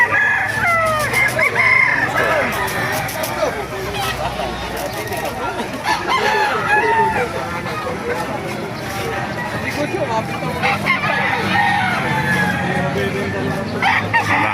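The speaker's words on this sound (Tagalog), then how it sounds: "Maraming manok ngayon dito sa Baliwag Dumagsa." Several roosters crow repeatedly amid a busy crowd at a chicken market, with hens clucking and people talking throughout.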